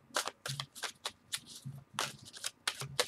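Tarot cards are shuffled close up in quick, crisp riffling bursts, separated by short pauses.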